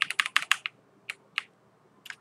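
Keys on a mechanical keyboard clack in a quick burst of close, crisp presses, then a few single taps spaced further apart.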